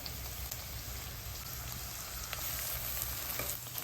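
Green chillies, garlic and ginger fry in a pan over low to medium flame for paneer bhurji, a steady soft crackling sizzle with a few light pops, close but quiet, no talking.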